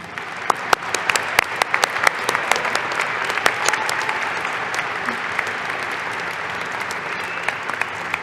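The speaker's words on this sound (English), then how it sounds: "Let's applaud them all." Sustained audience applause fills a commencement ceremony hall, steady and dense with scattered sharper claps standing out, continuing throughout without a break.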